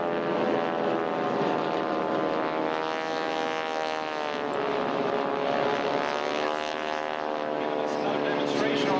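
An L-19D propeller airplane drones overhead at an air show, a steady buzzing harmonic engine tone that shifts slightly in pitch as it passes, loud and continuous, with an announcer talking over it.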